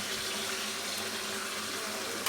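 Water is poured into Bengali-style mutton curry in a pan, giving a steady close splashing gush that runs continuously without pause.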